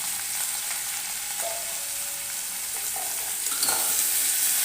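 Pumpkin, potato and onion fry in oil with a continuous, moderate sizzle, joined by occasional scraping and stirring sounds and a brief clink, steady and close without any talking.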